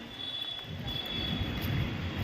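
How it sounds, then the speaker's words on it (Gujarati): A train pulling into a railway station, a steady low rumble of rolling wheels growing a little heavier, with a faint high squeal above, heard from the platform without talk. "ટ્રેન આવી ગઈ અમારી"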